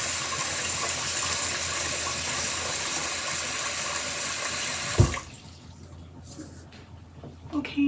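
Tap water runs steadily into a pot of soaked rice in a home kitchen for about five seconds, a full rushing stream that cuts off abruptly, leaving faint clinks and small handling sounds afterward.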